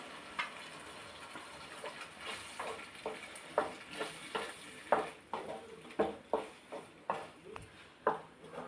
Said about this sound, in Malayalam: എന്നിട്ട് നമ്മൾ ആ വറുത്ത് അരച്ചത് ഒഴിക്കുവാണേ